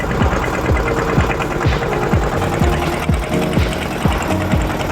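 A boat engine pulling away on the Padma river, a loud, close, rapid mechanical chugging that knocks steadily and evenly throughout with no voices.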